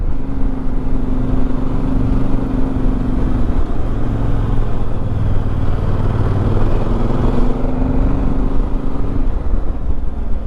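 A Voge 800 DSX Rally motorcycle rides a small road along a little river near Fontan, its mid-pitched engine droning steadily and loudly with slight pitch rises under continuous wind and road rumble, no talk.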